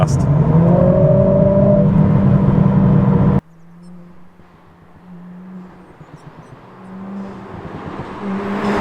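A Mercedes CLA45s AMG with an aftermarket exhaust revs loudly and rising, then cuts off abruptly to a low burbling idle drone that swells gently, heard close up.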